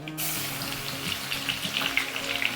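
Mustard seeds and garlic sizzle and pop in hot vegetable oil, a steady close frying hiss with crackling spatters that grow busier toward the end.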